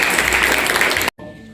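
Dense, loud clapping from an audience at a kindergarten New Year celebration in Zaporizhzhia, a steady wash of hands that cuts off abruptly into quieter room sound.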